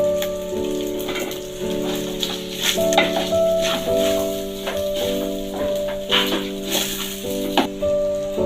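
Raisins frying in a pilaf pan give a steady crackling sizzle with small pops and stirring clinks, close and continuous under a faint tonal hum.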